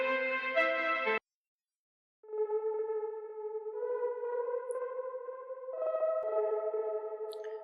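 A cubic pad synth from a free VST plugin sounds a bright tone, breaks into a short silence, then returns with a hollow, sustained pad that shifts pitch twice, alone and fairly quiet.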